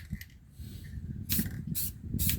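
Three bursts of aerosol spray paint hiss out in quick succession, close and loud, while an hourglass model is painted outdoors in picking-up wind.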